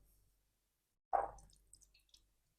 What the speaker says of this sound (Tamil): அதுக்கு ஒரு கப் எடுத்து ஒரு ஆஃப் லெமனை பிழிஞ்சு விட்டுக்கலாம்